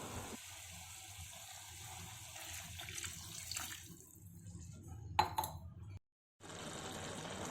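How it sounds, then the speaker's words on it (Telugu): A glass of water is poured into a pan of brinjal and dry prawn curry, giving a soft, steady splashing rush, followed by a faint clink and a brief silence. "దీని తర్వాత మనం 1 గ్లాస్ వాటర్ పోసుకుని ఉడికించుకుందాం."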